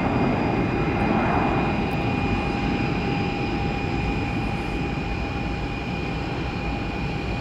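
An Airbus jet airliner takes off at Tampa airport, a steady, loud broadband jet roar with sustained engine whine tones, continuous throughout and without talk.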